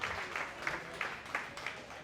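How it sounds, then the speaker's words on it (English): Audience at a stand-up comedy show gives a faint, distant round of applause, a soft steady patter of clapping with a few sharper claps standing out across two seconds. "So, round of applause, everybody."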